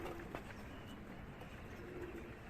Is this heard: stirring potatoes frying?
no